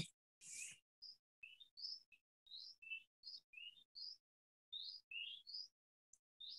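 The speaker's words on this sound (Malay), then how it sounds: "InsyaAllah sedap bunyi burung" Small birds give quiet, high chirps and tweets one after another in a spaced, irregular series, with nothing else audible around them.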